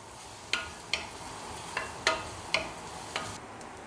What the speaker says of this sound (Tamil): கறிவேப்பிலை இலைகள் நல்லா இதெல்லாம் வதக்கணும்